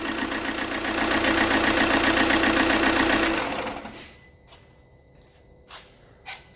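A close diesel engine in an Alfa Romeo Giulietta with low compression idles with a steady, loud rumble for a few seconds, then shuts off, leaving quiet with a few faint knocks.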